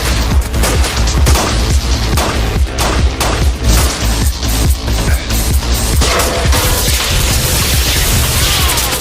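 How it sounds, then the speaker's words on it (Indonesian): Sniper gunfire in an action film scene: loud, repeated sharp shots and booming impacts crowd together in a dense, continuous barrage, with no voices. "Tiba-tiba Thomas dikejutkan oleh tembakan seorang sniper yang bersembunyi di gedung"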